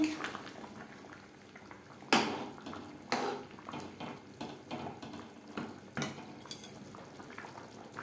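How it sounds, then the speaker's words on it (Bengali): Mutton curry gravy bubbling at a boil in a pot, a continuous close burbling with occasional louder pops and utensil clinks, no speech over it. "গ্রেভি বেশ ভালো করে ফুটতে শুরু করে দিয়েছে"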